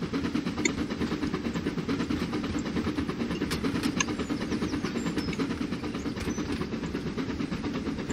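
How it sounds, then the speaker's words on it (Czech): In the Trainz 2019 train simulator, steady rumbling of a train rolling along toward the next station with faint rhythmic clatter, continuous and fairly loud throughout, no voices. "Takže už se náš vlak blíží do další stanice."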